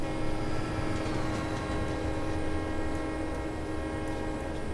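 A train rumbles past in the Train Simulator 2016 video game on the Transcontinental Link route, sounding a sustained horn over a steady, dense rail noise with no talking.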